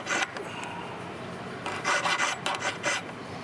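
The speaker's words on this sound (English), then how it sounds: "File to smooth the bridge." Hand file rasping back and forth across a dental installation bridge, a steady scraping run with louder bursts of strokes in the second half, close up with no voices.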